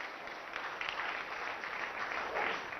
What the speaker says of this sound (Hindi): एक बार जोरदार तालियों से स्वागत हो जाए